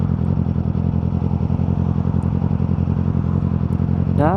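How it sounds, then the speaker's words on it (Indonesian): A Yamaha R6 sport motorcycle engine idles and putters steadily at low speed while the rider turns around on a road in Korea, loud and close, with a brief rise at the end. "Ini susah pas putar balik motor ini."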